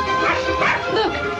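Toto, the small dog from The Wizard of Oz, barks and yips in a brief, close burst, with a voice underneath.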